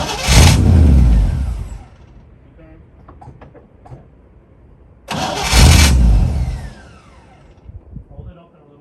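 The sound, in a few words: 1957 Chevrolet Bel Air engine starting and revving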